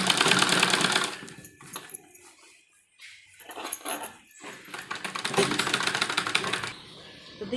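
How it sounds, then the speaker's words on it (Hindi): Sewing machine stitching a net lehenga blouse, rapid close mechanical chattering in runs, stopping for a couple of seconds midway before resuming, with a light rattle between runs. "इसको अंदर करते हुए और नीचे की सिलाई पूरी मिलाते हुए सिलाई लगाएंगे।"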